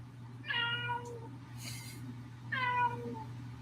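A cat meows twice, each call a clear rising-and-falling cry heard close up over a steady low indoor hum, with a short pause between them.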